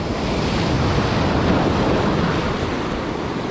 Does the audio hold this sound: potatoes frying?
no